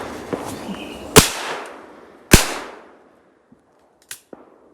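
Shotgun blasts during a bird hunt outdoors: two loud, sharp reports about a second apart, each with a trailing echo, then quieter pops and clicks as the action quiets down.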